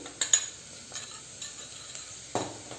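Onions frying and being stirred in a pan, a faint, low sizzle with a few quick clinks and scrapes of a spoon against the pan, close and quiet, without speech.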